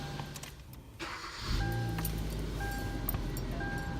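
A manual-transmission car is started with the key while the clutch is held down; a short cranking burst gives way to the engine catching and idling steadily close by, with a faint whine above the running engine.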